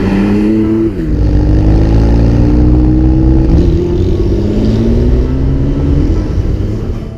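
A 2017 Porsche 911 Carrera 4 GTS Cabriolet accelerating, with a loud, close engine note that climbs steadily through gears, dropping briefly at each shift before rising again.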